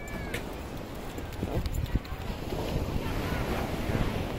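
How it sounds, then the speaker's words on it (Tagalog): Strong surf rolls and crashes continuously against the shore, mixed with heavy wind buffeting the microphone. "ang lakas na ng alon."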